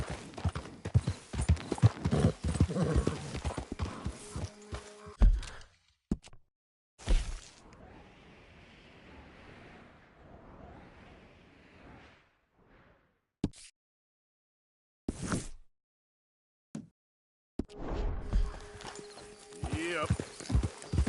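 Horse galloping in the Red Dead video game, quick clip-clop hoofbeats in bursts separated by quiet gaps, with a whinny and some short sharp cracks, and voices talking over parts of it.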